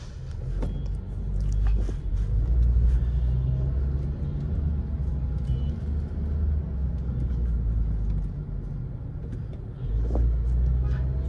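A Honda Civic accelerating from inside the cabin, a deep, loud engine and road rumble that swells, eases and rises again in waves, with faint rattles and no talk over it.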